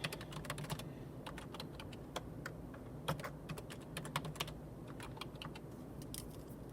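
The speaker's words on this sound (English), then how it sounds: "I am just writing down my password" Someone types a password on a computer keyboard, producing a steady run of light, close key clicks with brief pauses and no talking.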